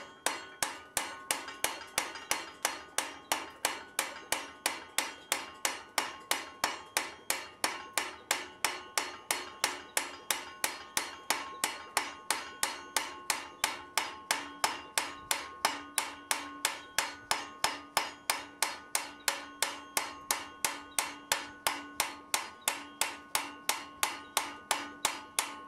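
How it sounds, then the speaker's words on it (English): Hammer blows on hot iron at an anvil while a blacksmith dresses an upset square corner for a grille, ringing in a steady, rapid rhythm of about three strikes per second throughout, close and clear with no talk. "This is me utilizing the last of the heat from dressing the corner at the anvil."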